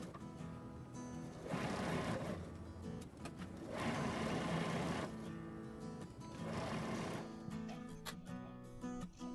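Sewing machine stitching quilt border pieces together, running in about three steady bursts of whirring motor and needle with short pauses between them.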